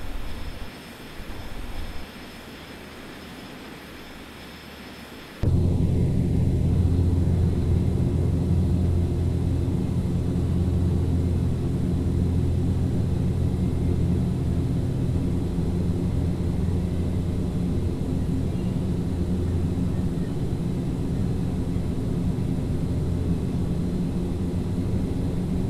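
Fokker 50 turboprop engines climbing after takeoff in the P3Dv4 flight simulator: a quieter hum suddenly gives way to a loud, steady low drone and rumble that continues unbroken.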